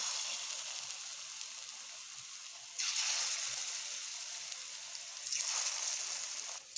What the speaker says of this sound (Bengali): কড়াইতে আমি তেল দিয়ে নিয়েছি, তেল আমার গরম হয়ে গেছে। এবার আমি এই বড়াগুলোকে ছাড়ছি।